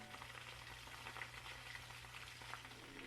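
Butter sizzles steadily in a pan on the stove, a soft continuous frying crackle with faint popping, fairly quiet and uninterrupted, no voices.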